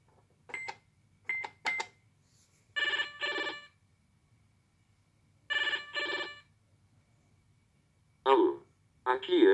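A Tec Toy Tele Papo toy telephone from the 1990s plays repeated short electronic rings in bursts with pauses between, close and clear, alongside brief bright chirps from the toy.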